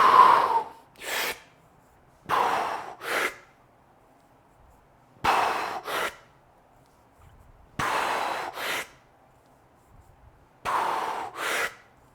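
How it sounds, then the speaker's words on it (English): A weightlifter breathes during a deadlift set, giving five paired breath sounds spaced a few seconds apart, each a sharp exhale followed by a quick inhale, close and clear against a quiet background. "I'm breathing out to re-engage and then breathing in quickly so I get a little oxygen"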